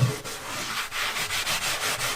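A hand rubs across wood sealed with Cascamite powdered resin glue, part sanded and part unsanded, giving a steady close scratchy friction in repeated back-and-forth strokes with no talking.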